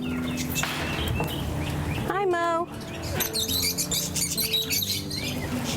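Exotic birds in an aviary give chirps and a rising, warbling call, plus scattered high tweets, under and between speech.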